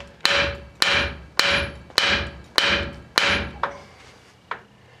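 Six heavy hammer blows strike the front axle steering knuckle of a 1994 Toyota 4Runner during teardown, evenly spaced and ringing with a metallic tone, followed by two lighter taps as it ends.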